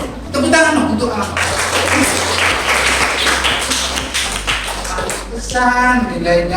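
Classroom applause for a student at a Jakarta vocational high school, a dense round of clapping from a group of people filling most of the clip, with some talk and shuffling underneath.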